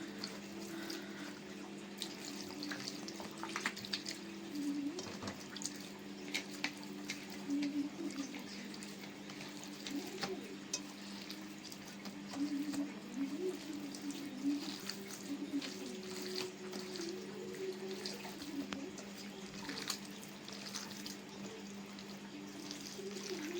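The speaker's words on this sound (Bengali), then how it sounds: "হালকা করে জল ঢেলে নি" Water gently poured over rice for panta bhat, a steady soft trickle and splash that runs the whole time, close and low in level.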